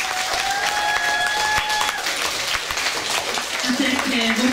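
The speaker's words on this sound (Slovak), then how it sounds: "Medveckej a pani profesorke Bedrichovej, poprosím potlesk." Audience applause at a Mother's Day school event, steady clapping from a crowd that fills the hall throughout, loud and continuous with a few voices heard under it.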